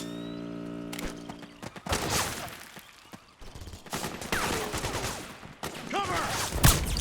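Bursts of gunfire in Metal Gear Solid 4 crackle in rapid volleys, loud and close, broken by short gaps and set against battle noise.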